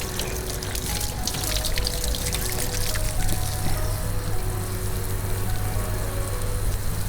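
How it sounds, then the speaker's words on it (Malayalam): Water gushes and splashes steadily from the delivery pipe of a running Wilo self-priming pump lifting municipal water, a continuous close pouring rush with a low motor hum beneath it. "വെള്ളം കയറി വരുന്നുണ്ട്."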